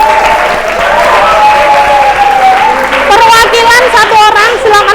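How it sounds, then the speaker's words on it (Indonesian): Loud, sustained applause from a full classroom honoring the best student groups in an Indonesian language lesson, with excited voices and shouts rising over the clapping throughout. "Kasih tepuk tangan dulu."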